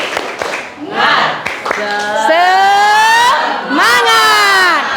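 A classroom of students joins their teacher in a 'tepuk semangat' spirit chant, with sharp claps up front followed by loud, sustained chanted voices rising and falling together in a rhythmic group call.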